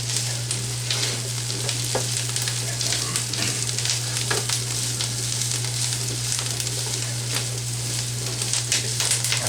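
Greens cook down in a skillet with a continuous close sizzle and crackle, broken by occasional stirring scrapes over a low, steady hum.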